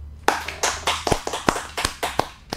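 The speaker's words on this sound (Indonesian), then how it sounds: "Beri tepuk tangan yang paling meriah untuk Bang Sudarno." Audience applauding for Bang Sudarno, a 2024 East Kalimantan gubernatorial candidate, with sparse, uneven claps from a small crowd lasting a couple of seconds.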